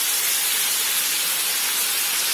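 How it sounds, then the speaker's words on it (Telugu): Tomatoes frying in a pan for a red chilli chutney, giving a loud, steady, dense sizzling hiss up close that holds unbroken throughout, with no talking. "ఈ టొమాటోల్ని కొద్దిగా ఇలాగా ఫ్రై చేసిన తర్వాత"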